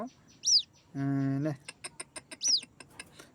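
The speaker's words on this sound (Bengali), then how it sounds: "এই সে আমার ডাহক পাখির বাচ্চাটা" A white-breasted waterhen chick gives high, rising peeping calls, close by, mixed with clucking and a sustained harmonic call, with a few short tapping sounds between the cries.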